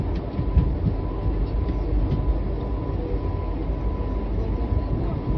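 Steady low rumble inside a moving Vande Bharat express train, with continuous rolling noise from the wheels and carriage and faint background hum. It is even and unbroken throughout, with no clear talk.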